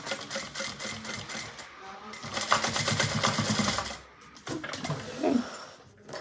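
A sewing machine stitches the seams of a fabric Destiny bag, a steady fast mechanical whirr that runs continuously for several seconds, pauses briefly, then resumes in shorter bursts at close range.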